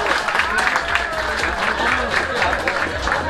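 Applause from an audience for a team at a quiz game, sustained clapping mixed with crowd noise and voices throughout, moderately loud and steady.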